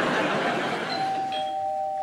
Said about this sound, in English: Ooh, doorbell.